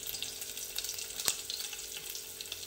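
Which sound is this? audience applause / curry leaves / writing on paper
curry leaves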